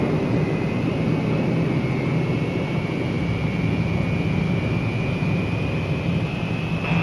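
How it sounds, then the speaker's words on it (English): Steady, loud jet engine roar from a B-47 jet bomber during its takeoff roll on a runway, a constant broadband rumble with a faint high whine that holds throughout with no voices. "Once you're lined up on the runway, all you need is a final check and power for the takeoff roll."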